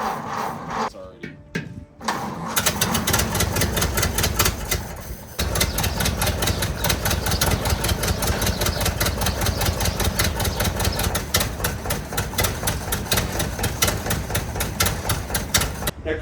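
A Ford Model A engine cold-starts after about two seconds of cranking, then settles into a loud, steady, rapid-firing idle that runs close by and unbroken, with a brief dip around the five-second mark.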